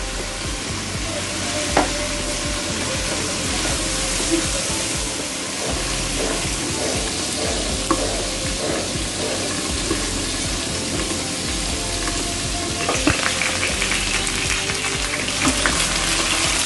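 Pumpkin pieces fry in a pan of cooked chicken masala, giving a steady, close sizzle with occasional stirring scrapes and clinks throughout, and no voices.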